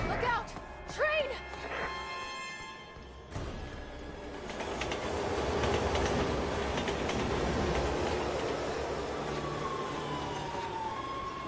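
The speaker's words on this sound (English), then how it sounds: "Look out! Train!" A train rushes past in the Resident Evil 6 video game, a loud, building rumble with clattering wheels and squealing that sustains after a sharp crash, with players talking over the start.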